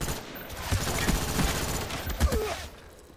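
Rapid hip-fire gunshots in the video game Call of Duty, a quick burst of repeated shots over background game noise, moderately loud with a few sharper cracks.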